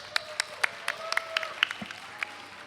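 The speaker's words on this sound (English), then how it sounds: "we're giving a round of applause to Cavo, please." Faint, scattered handclaps from a small group at a tournament, a dozen or so sharp claps spread unevenly over a couple of seconds.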